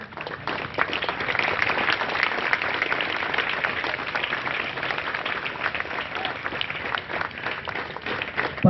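An audience at a Madhubani gathering held to welcome young children claps continuously. The applause is full and sustained, steady from start to finish, and fairly close.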